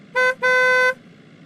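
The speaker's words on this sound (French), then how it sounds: "Qui me klaxonne?" A car horn honks twice outside, a short toot followed by a longer blast, loud and clear with no talk over it.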